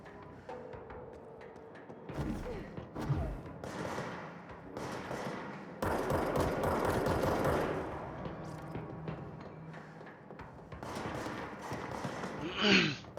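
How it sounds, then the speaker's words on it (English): Gunfire in the video game Control, scattered bursts and thuds of shooting amid shifting combat noise, fairly quiet overall, with a sustained louder stretch of firing in the middle. "Who's shooting at me?"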